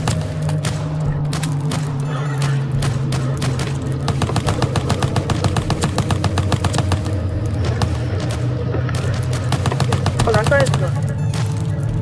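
Rapid gunfire in a video game, with dense bursts of shots over a steady background hum that run loud and continuous for about twelve seconds.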